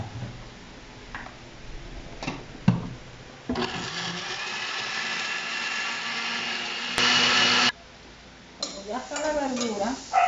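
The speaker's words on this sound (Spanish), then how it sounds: "Bueno, este ya lo voy a licuar." A blender whirs as oregano and cilantro are blended for nopales tortitas with machaca, a loud steady motor roar that starts after a few clicks and handling sounds, pauses briefly, then resumes.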